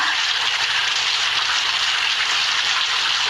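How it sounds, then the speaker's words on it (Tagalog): Steady, heavy rain hisses continuously on a surface, loud and close, with no voices. "Mabuti na lang at umuulan ngayon."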